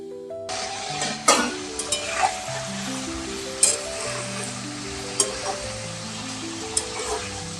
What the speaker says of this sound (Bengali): জোর করে দিয়ে মাংসটা ভাজতে হবে